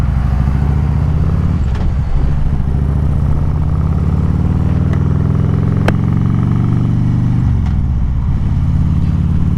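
A motorcycle engine drones loud and close at steady speed, with wind rush and shifting pitch as it rides along, and no talking.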